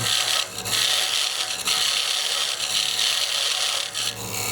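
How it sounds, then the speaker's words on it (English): A square-tipped carving cutter chisels into wood. The rasping, scraping strokes run steadily and close up for the whole stretch, with no talk. "I'm coming in now with my square tipped cutter, and I'm just gonna come in at an angle and start chiseling away like this."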